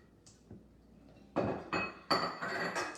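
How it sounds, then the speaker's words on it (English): A spatula mixing chocolate chip and M&M cookie dough in a bowl, with a few faint taps, then several loud scraping, clinking strokes close by. "going to mix that up for us with his spatula"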